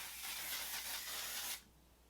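Onesize Beauty setting spray misted in one continuous burst of about a second and a half, a close, steady airy hiss that cuts off abruptly into near silence.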